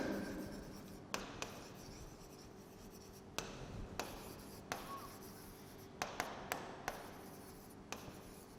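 Marker strokes on a board while working through a matrices maths problem, with scattered sharp taps and scratchy writing strokes in an irregular rhythm, close and fairly quiet, with no talking.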